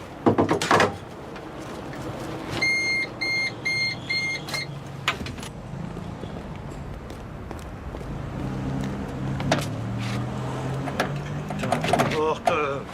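A door in a French TV drama scene, with several knocks and clunks at the start and later rattling handling, mixed with a ringing electronic tone, background hubbub and people talking.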